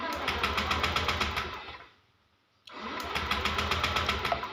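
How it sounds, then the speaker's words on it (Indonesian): A Honda Beat motorcycle's electric starter, on a bike that won't start despite a new battery and relay, cranks in a fast rhythmic whir, stops for a short silence, then cranks again without the engine catching. "saya tekan tombol starter"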